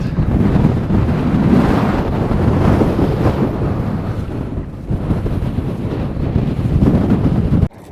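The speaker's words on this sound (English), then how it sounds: "Insanely windy." Strong wind in Death Valley National Park buffets the microphone in a constant, loud roar with gusty surges, running unbroken until it cuts off abruptly near the end.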